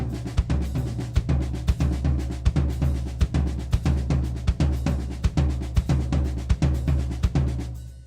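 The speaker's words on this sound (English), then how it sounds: "Putting a hi-hat in, it would sound like this." A drum kit plays a steady linear groove with hi-hat, crisp close strokes falling in a repeating pattern with regular accented hits throughout, no voices.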